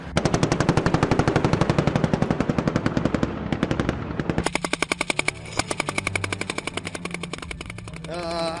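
Sustained automatic gunfire from a special forces demonstration in downtown Tampa, rapid bursts hammering close and loud, shifting into a denser, more echoing volley of shots partway through, with no talking.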